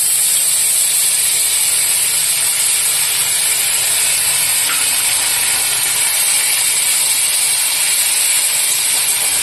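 Spices sizzle in hot oil for a Bengali pumpkin dish, with five-spice, a bay leaf and a dried chilli already in the pan. The loud, steady hiss and crackle runs unbroken, close and alone, with no talk.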